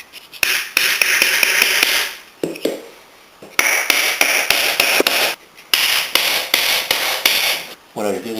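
A wooden wedge is hammered into an ash hoe handle fitted on a branch, sharp ringing blows arriving in fast bursts separated by brief pauses, close and loud.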